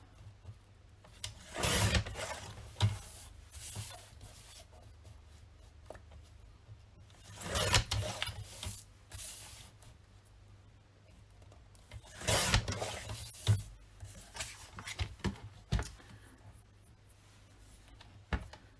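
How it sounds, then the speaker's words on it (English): Scissors trim the white edges off scrapbook cards in three separate bursts of close, papery slicing and rubbing, with quiet pauses between the cuts. "I am going to cut these, the white edges off."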